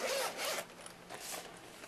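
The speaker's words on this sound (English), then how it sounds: "Dual zippers." Dual zippers on a hard-shelled Nodal Ninja 5 panoramic camera gear case are pulled open in two quick, close rasping strokes with a brief pause between.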